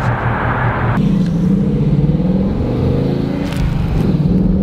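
Low, rumbling V8 engine of a 2019 Ford Mustang GT heard from inside the car while driving, steady and droning with slight pitch rises as it accelerates.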